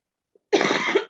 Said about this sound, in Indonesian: sorry batukku belum sembuh ya dari isoman ini.